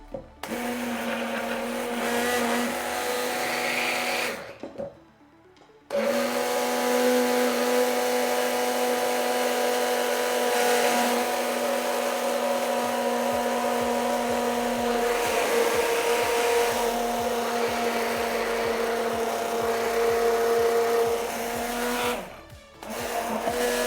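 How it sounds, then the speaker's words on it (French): Electric blender running steadily and loudly, mixing an egg sauce as oil is poured in, a constant whirring drone that cuts off briefly around five seconds and again near the end. "on va venir mixer tout en rajoutant l'huile"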